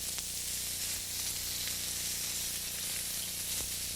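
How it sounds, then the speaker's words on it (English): Shrimp sizzle in a hot pan, a soft, steady hiss with faint crackles, fairly quiet and with no voices. "Cook the shrimp."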